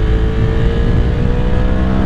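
A Honda Africa Twin 1100 Adventure Sports motorcycle accelerates hard out of a curve. The engine roar is loud, steady and close, with continuous wind buffeting and no talking.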